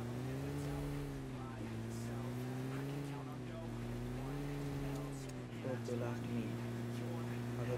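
A vehicle in PUBG Mobile drives with a steady droning engine hum that rises and falls slightly in pitch, continuous and moderately loud, with someone talking over it.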